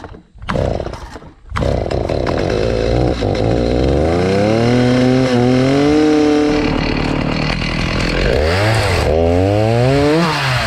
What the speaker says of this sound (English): So we're gonna work on starting to cut the tree up and moving it.